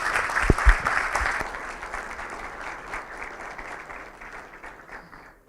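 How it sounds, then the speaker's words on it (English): Steady applause from a conference audience closing a technical talk at Javantura v3, with a few sharp claps up front settling into a dense, fading patter over about five seconds. "Applause."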